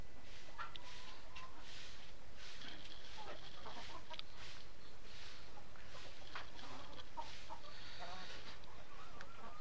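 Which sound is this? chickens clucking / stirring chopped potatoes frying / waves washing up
chickens clucking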